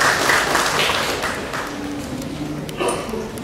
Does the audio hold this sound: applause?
yes